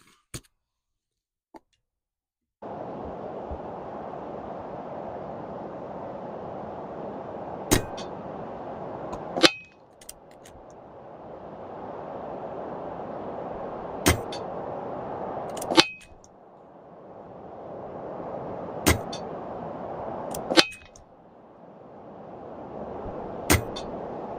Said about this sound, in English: So we'll put 5 shots at 30 yards with the JSB Hades.